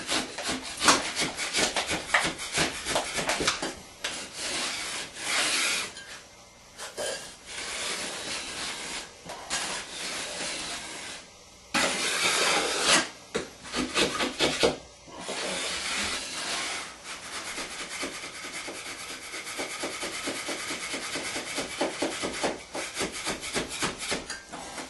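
Drywall being shaved flat with a rasp during a ceiling overlay over asbestos, giving repeated scraping strokes in bursts with brief pauses, close and fairly loud, no talking.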